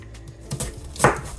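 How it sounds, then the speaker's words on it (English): A knife chops an onion on a cutting board, a few quick close taps followed by one louder, sharper cut, with no talking. "I am just chopping an onion because that's what the recipe calls for."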